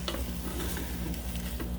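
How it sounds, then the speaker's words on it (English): Chicken sizzling in an air fryer gives a steady soft hiss with faint ticking, a low constant hum underneath, quiet and continuous for a moment. "You can hear it sizzling. It's very hot in there."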